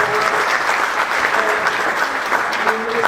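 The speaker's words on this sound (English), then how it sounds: "One more round of applause for all these phenomenal students." Loud, dense applause for students at a school concert, a full room of hands clapping steadily and evenly for the whole stretch, with no talk on top.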